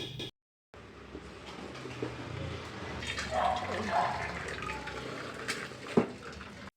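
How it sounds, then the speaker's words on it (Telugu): Hot water heated on a stove is scooped for a bath, with soft splashing and pouring sounds near the microphone and a sharp clink of a vessel, as someone talks over it. "స్నానానికి నీళ్ళు తోడుకుంటున్నాను"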